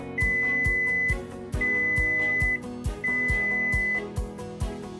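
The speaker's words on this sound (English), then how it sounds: "When your coffee is ready, you will hear 3 beeps" A kitchen coffee brewer gives three long electronic beeps in steady succession as the brew cycle finishes, loud and close over a pulsing musical backing.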